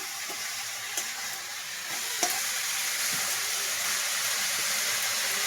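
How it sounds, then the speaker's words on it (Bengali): Finely shredded fresh cabbage, unboiled, frying in a pan for a vegetarian dish: a loud, dense, continuous sizzle up close, with occasional soft knocks from stirring. "আমি এটাকে আজকে সিদ্ধ না করেই রান্না করছি, একদম সরু সরু করে কুচিয়েছি"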